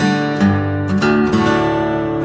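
A Martin D-18 mahogany acoustic guitar with light gauge strings is strummed in a few clear, ringing chords up close, each one sustaining and blending into the next.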